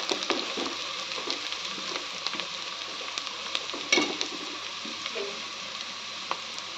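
Onions frying in a pan, a continuous dense sizzle close up with faint spatula scrapes and one louder knock midway, no voices.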